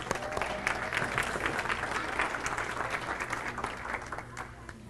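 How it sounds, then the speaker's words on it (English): An audience applauds steadily for about five seconds, dense clapping from a crowd that begins to thin slightly toward the end. "If you guys can give a hand clap for Fernando Moje, all right?"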